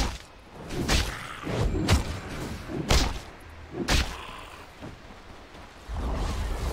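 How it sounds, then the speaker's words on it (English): A tower crumbles in a Dota 2 match, heavy thuds and whooshing impacts landing at roughly one-second intervals, loud and close, with little talk. "Radiant's middle tower has fallen."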